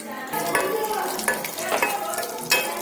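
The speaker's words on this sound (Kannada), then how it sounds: "ತುಪ್ಪ ಹಾಕಿ ನಾನು ಕರಿತಾ ಇದ್ದೀನಿ" Cashews fry in ghee in a pan for sweet pongal, giving a steady close sizzle broken by several sharp stirring scrapes and clinks against the metal.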